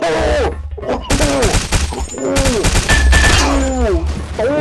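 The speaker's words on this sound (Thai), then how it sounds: "โอ้ยใครยิงวะน่ะ" Rapid bursts of gunfire in the Blockade 3D shooter game, crackling in dense volleys over several seconds, with someone talking and exclaiming over the shots.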